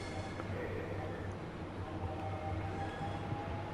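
A Class 465/9 Southeastern High Speed express train in Train Sim World 2 rumbles past as a steady, continuous low drone with faint rail hum, moderately loud and with no one speaking.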